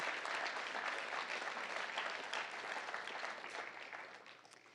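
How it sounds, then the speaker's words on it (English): Audience applause at a National Honor Society high school induction ceremony: a sustained round of clapping from a crowd that slowly tapers off over several seconds. "we can give a round of applause after that one"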